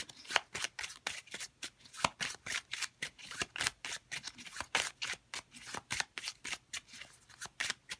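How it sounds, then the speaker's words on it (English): Playing cards are riffled and shuffled in quick, rhythmic bursts, a close, crisp flutter repeating steadily from start to finish with no talking. "let me see if I can get a playing card here"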